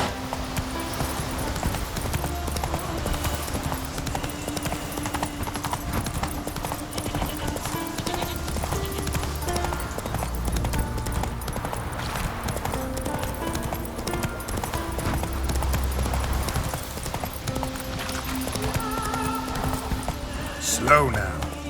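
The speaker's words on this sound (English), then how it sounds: "Run, Roach." Hoofbeats of a horse galloping in The Witcher 3 on Death March difficulty, a steady rapid clip-clop running throughout under game music and ambient sound, with a brief voice calling out near the end.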